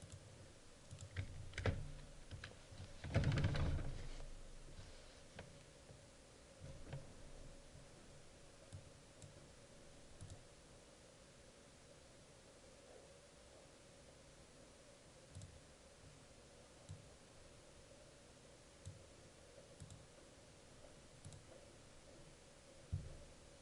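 Someone typing on a computer keyboard and clicking a mouse, quiet and close, with sparse soft keystrokes and clicks over a steady background hiss, plus a brief louder flurry of clatter near the start.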